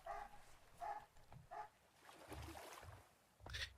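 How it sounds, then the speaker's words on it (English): Dogs barking in the background during a game stream, a handful of quick yips and barks in irregular bursts, faint and somewhat distant. "I apologize for the dogs being part of the entire stream."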